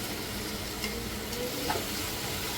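Tomatoes and curry leaves sautéing in a pan for a fish curry, a steady close sizzle with soft stirring scrapes and a faint clink, no speech over it.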